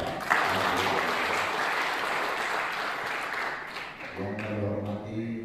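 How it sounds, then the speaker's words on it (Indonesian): A crowd at a Golkar party provincial congress closing in Bengkulu applauds the newly elected chairman, sustained dense clapping that fades near the end as a voice begins speaking over a loudspeaker. "tepuk tangan untuk Bapak"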